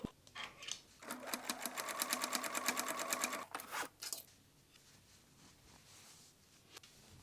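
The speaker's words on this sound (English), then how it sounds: "Serge leg edges and stitch hem with 1 centimeter allowance." A serger and sewing machine stitch the leg edges and hem of shorts made from a T-shirt: a close, fast run of rapid mechanical stitches lasting a few seconds, then brief bursts and quiet handling.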